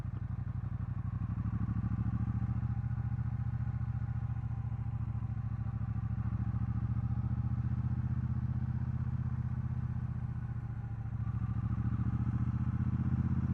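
A Triumph Bobber Black 1200 motorcycle rumbles steadily along gravel back roads, a low, even engine drone heard from the rider's position, fairly quiet and continuous, dipping briefly before resuming.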